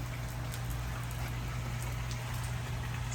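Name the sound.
rain falling outside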